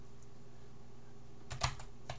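Computer keyboard typing commands while setting up a Cordova project for Android Studio, faint room hum and then a short quiet burst of several keystrokes near the end.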